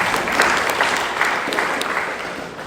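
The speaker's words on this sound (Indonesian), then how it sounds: "Tepuk tangan saudara." A church congregation applauds during a service: steady, moderately loud clapping from many hands that continues throughout and slowly fades near the end.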